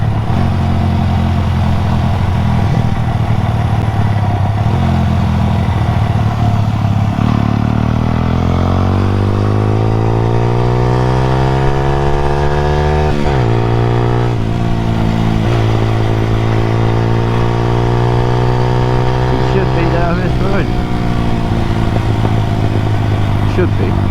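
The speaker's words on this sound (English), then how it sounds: "Just going for a ride with a moped." A Honda Vision moped engine runs loudly throughout, its pitch rising and falling as it accelerates and shifts, with steady road noise underneath.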